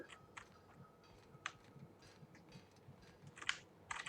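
Sparse, quiet clicks of computer keyboard keys, struck in a loose irregular rhythm during play of The Outer Worlds on a computer, with a few sharper taps near the end and low room noise underneath.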